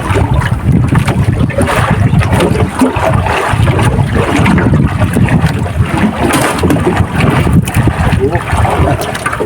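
A new fishing boat out on open water, with steady engine and hull rumble mixed with wind buffeting the microphone and splashing water throughout, loud and close.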